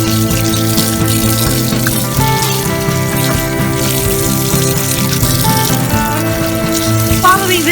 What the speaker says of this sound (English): wash it under running water